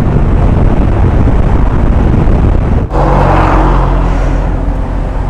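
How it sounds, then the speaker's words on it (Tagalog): Dense road traffic rumbles loudly and continuously around a rider on an NMAX V2 scooter heading from Batangas to Bicol, with wind buffeting the microphone and a brief dip before the steady engine and roadway noise resumes. "Grabe ang traffic."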